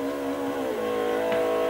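A Ford RS200 engine in the racing game Forza 4 drones loudly and steadily at high revs, with a brief pitch dip as it shifts, no voices.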